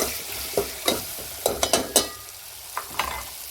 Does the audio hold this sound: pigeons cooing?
no